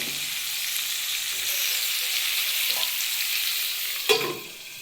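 Prawns with flat beans and potato sizzle steadily in a pan at close range, a constant frying hiss with a few stirs and one sharper clack of the utensil near the end, and no voices.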